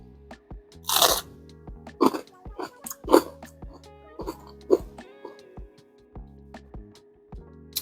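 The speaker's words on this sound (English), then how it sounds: "Let me show you this crunch." Crispy zucchini bites being bitten and chewed up close, a sharp loud crunch followed by a series of irregular crunchy chewing bursts, with brief pauses between.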